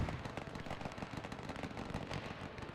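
Enemy machine guns rattle in a WW1 battle in the game Between Empires, a dense, rapid stream of distant cracks and pops overlapping with scattered rifle shots, continuous and moderately faint throughout.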